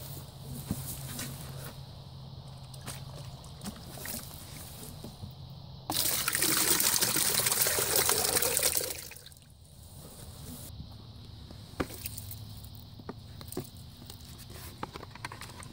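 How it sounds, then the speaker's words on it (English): Alfalfa soaking liquid poured into a bucket in a vegetable garden, a steady splashing gush lasting about three seconds amid quieter drips and trickles before and after, close by, with no talk. "what I do is just pour it into a bucket"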